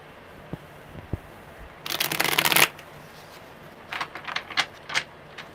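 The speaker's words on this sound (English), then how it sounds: "One more good shuffle, my wifey." Tarot cards shuffled by hand in a riffling burst lasting under a second, followed by a few lighter card flicks and taps, close and alone.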